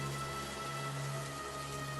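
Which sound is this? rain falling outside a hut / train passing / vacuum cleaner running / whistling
rain falling outside a hut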